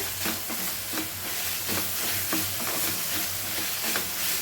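Sliced onion and green chilli fry in a pan under a steady, close sizzle, broken by regular scraping stirring strokes about twice a second; nobody speaks.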